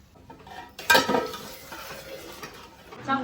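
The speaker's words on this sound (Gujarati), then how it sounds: "ચોખાને તો વઘારવો પડે." Rice hits hot oil for a vaghar tempering with a sudden loud clatter and sizzle, then settles into softer stirring and scraping with a faint utensil clink near the end.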